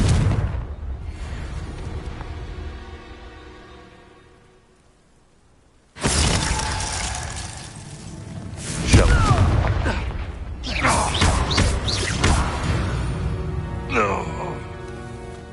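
In the Hogwarts Legacy game, a Confringo fire spell bursts with a loud sudden blast after a fading rumble and a near-silent lull, followed by crackling debris and further rumbling impacts, with some speech.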